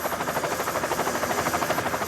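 Colombian Air Force Black Hawk helicopters fly overhead during a flag demonstration, their rotors giving a steady rhythmic whop-whop chop over a broad engine roar, continuous and fairly close.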